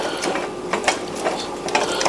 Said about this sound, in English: The rattling you hear is Jim getting out a utensil